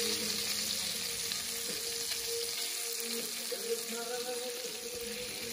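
Lobster cooking in ghee with lime sizzles and crackles steadily in the pan, a close, even frying hiss with faint stirring and no voices.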